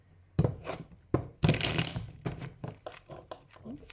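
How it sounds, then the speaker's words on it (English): A Lion Strider tarot deck is shuffled by hand, a series of quick papery riffles and slaps in irregular bursts, close and crisp, with short pauses between. "I'm just going to shuffle the deck quickly."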